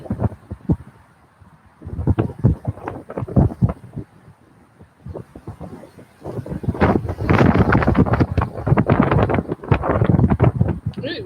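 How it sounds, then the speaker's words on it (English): Gusty wind buffets the microphone in rumbling bursts, growing stronger and more constant in the second half, with someone talking throughout. "It's windy as hell out here today."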